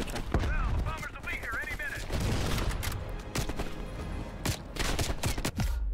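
Gunfire in Call of Duty Black Ops Cold War at a checkpoint: dense, rapid bursts of shots throughout, with a voice speaking amid the shooting and a brief warbling tone early on.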